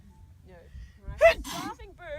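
A single sharp sneeze bursts out near the middle, loud and close, during an outdoor falcon show on a Dubai heritage desert safari, with someone talking just before and after it.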